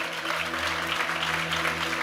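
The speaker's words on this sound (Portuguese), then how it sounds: "Você pode aplaudir? Aplaude ele aqui" An audience in a church auditorium keeps up steady, even applause, a dense wash of clapping with a low hum underneath.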